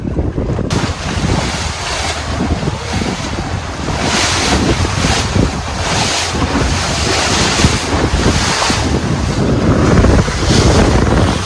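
Strong wind buffets the microphone in a steady roar, with gusts swelling and fading throughout and no voices.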